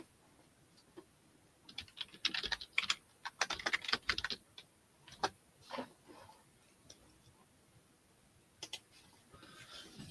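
Keys clack on a computer keyboard in short irregular bursts, with a dense flurry in the middle and scattered taps afterward, close and fairly quiet.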